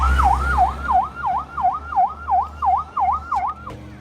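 An ambulance siren wails in Gaza City, a loud, rapid rising-and-falling yelp repeating about nine times over a low traffic rumble before cutting off near the end.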